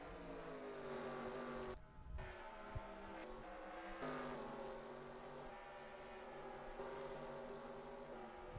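Race car engines in NASCAR Racing 2003 on the Dover oval drone at high revs, with a steady layered whine of several cars close together and brief dips and surges as cars pass.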